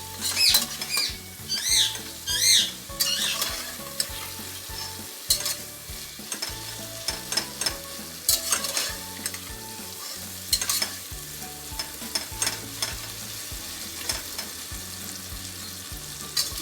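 Cumin, kasuri methi and dried coriander roasting in a pan, with a soft sizzle and repeated scraping and stirring strokes of a spoon against the metal, close up and with no voices.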